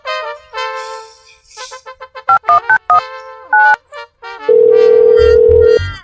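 A telephone is dialed with a quick string of electronic keypad beeps at varying pitches, followed by a loud, steady tone lasting over a second that has a low pulsing buzz beneath it, close and clear.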